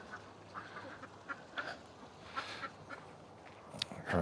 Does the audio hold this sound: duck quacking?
yes